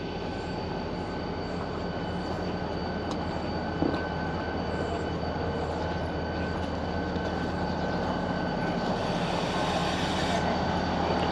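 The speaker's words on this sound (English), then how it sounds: "There's the train." Train passing through Talkeetna, Alaska, a steady heavy rumble of rolling rail cars with a continuous mechanical drone, loud and unbroken.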